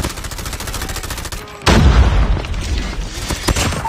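Rapid gunfire and a heavy grenade blast in a first-person shooter game, with a steady rattle of shots followed by a sudden loud boom and continued firing and impacts.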